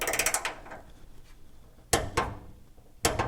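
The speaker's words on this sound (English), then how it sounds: "So these are going to be torqued to 100 inch-pounds." A torque wrench tightening the bolts of a catalytic converter shield on a Honda Element, heard as rapid close ratcheting clicks in three separate bursts with quiet pauses between them.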